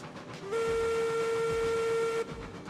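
A video game steam train whistle gives one steady, loud blast of under two seconds, clear against a low rumbling background.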